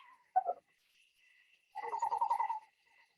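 A screech owl in Connecticut gives a short single note, then a rapid rolling trill of evenly pulsed notes lasting under a second, fairly faint against a quiet night background.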